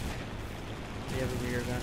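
Machine gun fire from a bomber's rear gunner in the War Thunder flight game, heard as a dense rattling burst against steady engine drone, growing louder partway through.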